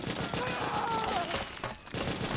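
Soldiers' automatic gunfire in a Metal Gear Solid 4 firefight, a dense, steady rattle of shots at moderate distance, mixed with shouting voices and battle noise.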